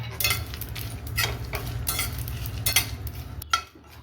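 Coriander, sesame and poppy seeds with dried coconut pieces dry roasting in a pan, giving a close, continuous scraping stir with light rattling and faint sizzle, plus a sharper clink near the end.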